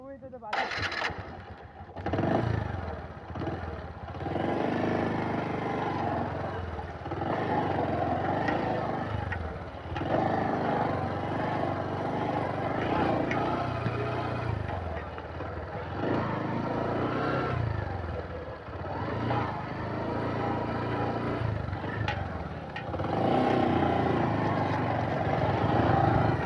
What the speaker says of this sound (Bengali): বালুর মধ্যে মোটরসাইকেল চালানো সত্যি কষ্টকর।